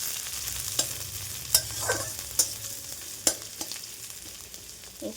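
Chopped onion frying in a pan for a home-style kochur loti dish with mustard and coriander, a steady broadband sizzle punctuated by several sharp clinks and scrapes of a stirring spoon, no talking.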